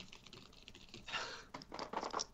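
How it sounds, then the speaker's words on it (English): Quick bursts of typing on a computer keyboard, a fairly close, irregular clatter of keystrokes that grows busier toward the end, with no talking. "And you heard the sound of typing."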